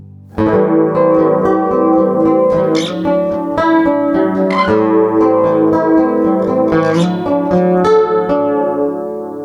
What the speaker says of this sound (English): I'm going to add some chorus in there now